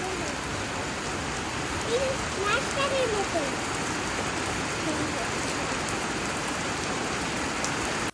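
Steady rain pours down on a day of tornado alerts, a dense unbroken hiss filling the whole stretch, with a brief faint voice passing underneath.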